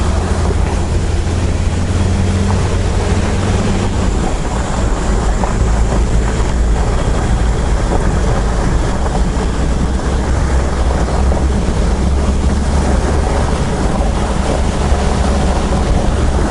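A 4WD rolls along a gravel road with a steady low rumble of engine and tyres, continuous crunching road noise and some wind buffeting heard from inside the vehicle, with no talk.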